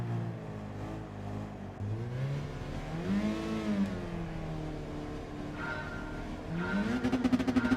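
Peugeot RCZ Group 4 race car in Gran Turismo launching off the start at Monza, its engine note climbing steadily through the revs with a brief tire squeal, loud and close throughout.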